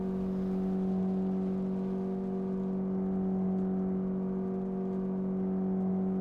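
A car engine in the storm-chasing video game Outbrk drones at a steady, even pitch, with a constant hum and slight whine and no change in speed.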